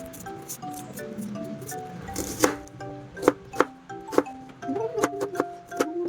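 Onion being chopped with a knife on a cutting board while cooking native chicken tinola, a series of sharp, separate cuts rising to a quicker run of close, crisp knocks near the end, with no one talking.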